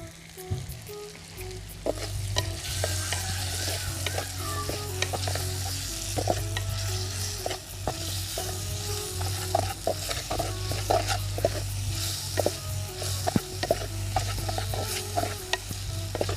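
Vegetables sautéing with mango pieces in a pan for village-style quail gravy, a steady close sizzle and fry with repeated scraping stir strokes throughout, no talking.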